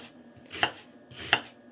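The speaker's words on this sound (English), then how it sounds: "I don't need to slice this into teeny tiny pieces." A knife chops food on a board for Puerto Rican arroz con gandules, two sharp, close, evenly spaced thuds with no talking.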